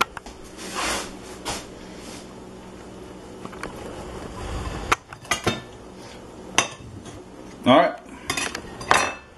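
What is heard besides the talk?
knife and cutlery clinking while fetched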